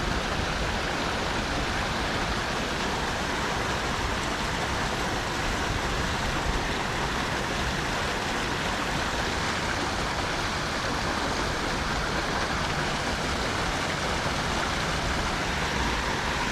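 Steady, dense rush of water flowing through a culvert, constant and broadband like a stream pouring through a pipe, with no voices.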